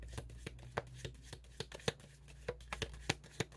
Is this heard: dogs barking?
no